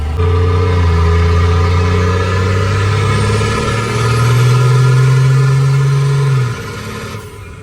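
A 12-valve swapped Chevrolet C30 truck accelerating hard, its loud engine drone rising in pitch through a gear change, then easing off near the end, heard from inside the cab without talk.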